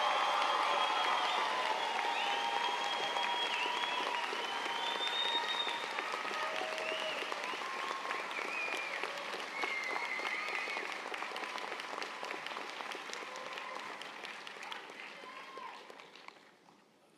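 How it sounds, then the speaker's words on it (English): A commencement crowd at an architecture and design school applauds the graduating class, long and full at first, with scattered voices and cheers mixed in, gradually thinning and fading out. "It is a moment for applause, ladies and gentlemen, for the class of 2023"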